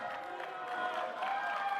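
An audience claps and cheers at a 2018 California gubernatorial debate, a short, fairly faint, even wash of applause.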